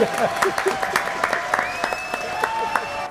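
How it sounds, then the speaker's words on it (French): An audience claps in scattered, uneven bursts, a small crowd heard close with individual hand claps standing out over a short stretch. "Allez, applaudissements pour tous les gars."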